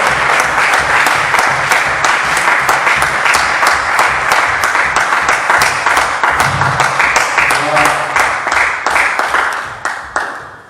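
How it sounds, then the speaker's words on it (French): A church congregation claps in loud, sustained applause, dense rhythmic hand claps filling the room and tapering off near the end, with some voices mixed in. "Acclamez encore très fort."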